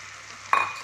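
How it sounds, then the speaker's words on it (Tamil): Tomato paste hits a hot pan while cooking egg gravy, a sudden quiet sizzle rising out of a near-silent kitchen and fading slightly over a fraction of a second. "இதையும் சேர்த்து நல்லா வணக்கிடுங்க"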